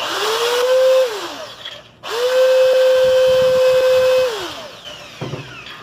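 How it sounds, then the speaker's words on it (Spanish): Metal drill bit boring into an aerosol can, the drill whining up to a steady high pitch in two bursts, each winding down afterwards, with faint scraping and clicks as the bit works through the metal. "vamos a perforarlo con la broca de metal"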